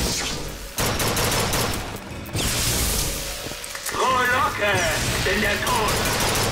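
Gunfire in the first-person shooter BioShock Infinite, set in a police station: bursts of shots and impacts run throughout, mixed with game music and effects, while someone talks over much of it.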